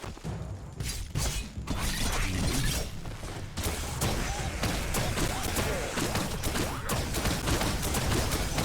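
Gunfire crackles and bursts repeatedly in the Biomutant video game, setting off sharp impacts and clattering effects. They come in dense, irregular volleys that keep the action busy throughout.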